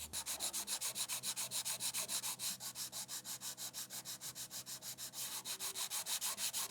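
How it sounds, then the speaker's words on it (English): Sandpaper of 320 grit wrapped on a block rubs over wood in quick, even back-and-forth strokes, a steady rhythmic scratching close by with no talking. "take some 320 grit sandpaper. So just take your block, wrap it around there."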